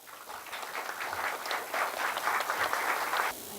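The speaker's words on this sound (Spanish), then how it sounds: "Un fuerte aplauso, por favor." An audience at a round-table event at Universidad de San Marcos applauds a visiting professor, with clapping that builds over the first seconds, holds steady and lively, then stops abruptly.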